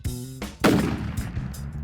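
A CVA Accura V2 nitride muzzleloader fires one loud, booming shot outdoors in Alaskan snow while its zero is checked at a target, followed by a rolling echo that fades.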